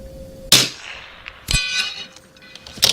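At a long-range shooting match, rifle bullets strike a steel gong 300 yards away, giving several sharp, loud impacts spaced about a second apart, each followed by a bright metallic ring that quickly decays.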